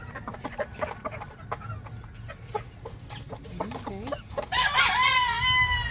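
Chickens cluck and a rooster crows loudly at feeding time in a breeder flock, with a long crow near the end over steady clucking and brief human talk in the background.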